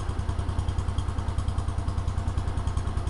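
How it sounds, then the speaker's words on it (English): A 1971 John Deere 140 H3 hydrostatic garden tractor engine idling close by, a steady rapid low thumping putter with a regular beat throughout, no voices. "The John Deere is actually running."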